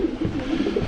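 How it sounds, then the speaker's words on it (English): Pigeons coo by an old 1848 stone bridge on the Leeds Liverpool Canal, a short run of soft, low, throaty coos close by. "There's quite a few pigeons."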